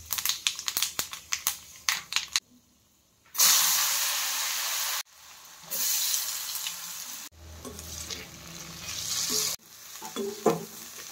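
Finely chopped potatoes frying with a nigella seed tempering, a loud hissing sizzle in bursts broken by sharp stirring scrapes and clatter, with short quiet gaps between.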